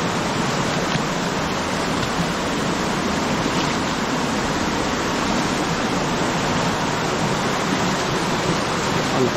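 Water flows steadily from a spring in Quezon, Philippines: a close, continuous rushing hiss that holds at an even level with no pauses and no voices.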